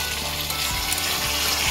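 Katla fish kalia masala frying in hot oil, a continuous close sizzle and crackle with faint stirring scrapes, steady and fairly loud throughout with no voices.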